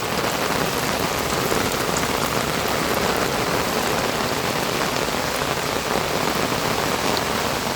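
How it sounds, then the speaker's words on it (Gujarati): Heavy monsoon rain hammers down over Rangpur village, a loud, close, unbroken roar of drops pounding roofs and ground with no voices. "તમે જોઈ શકો છો રંગપુર ગામની અંદર ભારે વરસાદ પડી રહ્યો છે।"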